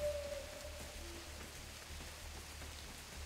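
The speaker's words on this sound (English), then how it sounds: "Man, this rain is going to make it hard to hear him, though." Steady rain falling in the Bigfoot video game, a soft continuous patter with a low rumbling bed, fairly quiet and even throughout.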